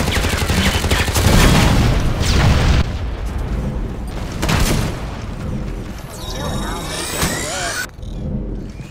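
In the video game Shadowgun War, a loud grenade blast and dense bursts of gunfire fill the opening seconds, then scattered shots, booms and weapon effects continue, with a game character voice over the action.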